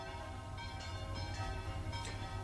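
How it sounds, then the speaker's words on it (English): Church bells ringing on a Sunday morning, heard faintly and at a distance as a few soft, spaced strikes over a steady low room hum. "I've been listening to the bells."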